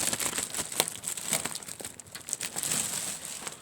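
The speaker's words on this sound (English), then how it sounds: "let's see if we could get the plastic off" Plastic wrap crinkles and tears as it is pulled off a Phanteks P400S PC case, a quiet, close run of irregular rustles and crackles.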